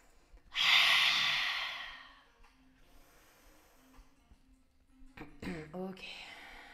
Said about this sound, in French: Et on expire ici, inspire par le nez.